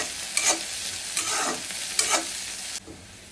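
Garlic, chopped onion and whole cumin hiss and sizzle in hot oil in a wok, with three bursts of stirring over the steady frying before the sizzle drops off near the end.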